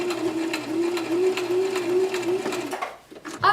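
A sewing machine back stitches thin fabric to form the center of a hair bow scrunchie, running in a steady rhythmic whir for about three seconds before stopping.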